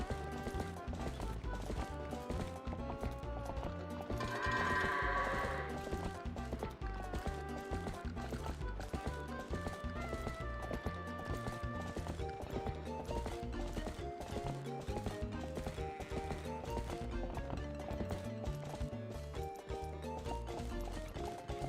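Hooves of Epona, the horse in the video game Twilight Princess, clip-clopping steadily while herding goats, set against constant game music with a brief whinny-like burst near the start.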